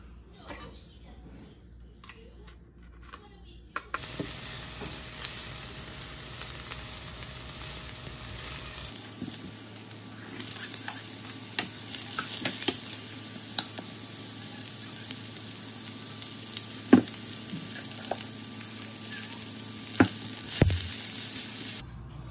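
Bell peppers cooking in a pan, a steady low sizzle with occasional stirring clatter and scrapes, close and moderately loud, in a home kitchen.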